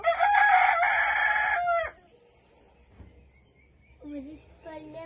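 A rooster lets out one loud, close crow that lasts almost two seconds. Quieter clucks and low voices follow.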